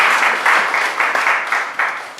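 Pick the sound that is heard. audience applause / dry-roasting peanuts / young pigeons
audience applause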